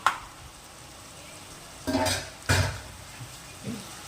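A metal pot lid clanks shut twice over a cooking pot of mutton, two sharp close knocks about half a second apart against a low sizzling background, with a faint clink after.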